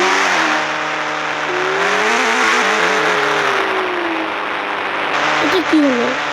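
Engine drone of a car in the Indian Bike Driving video game, a steady loud hum with its pitch rising and falling as it accelerates, followed by a brief crash or squeal near the end.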